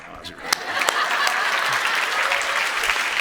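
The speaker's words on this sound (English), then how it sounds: "You can clap." Audience applause breaking out after a sermon-style talk, a few sharp early claps swelling into steady, dense clapping from a crowd, fairly close and loud.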